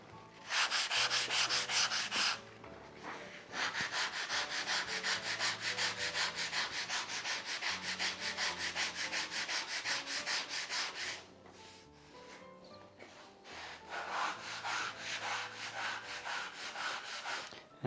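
Sanding a wooden door during restoration, a steady rubbing scrape in long continuous strokes that runs loud and close for most of the time, with a brief pause early on and a quieter stretch near the end before it picks up again.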